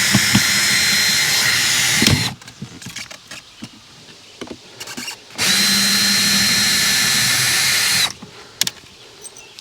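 A power drill backs screws out of a part, two long loud whirring runs separated by a pause filled with faint handling clatter.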